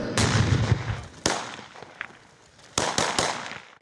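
Several sharp, loud explosions burst out one after another near soldiers in training, a few close together near the end, each with a short rumbling tail over a noisy outdoor background; Zaporizhzhia front, Ukraine.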